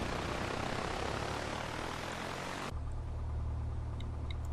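A PA-28 Cherokee's propeller engine in Flight Simulator X holds a loud, steady broadband drone while taxiing, then drops abruptly to a quieter low idle hum partway through.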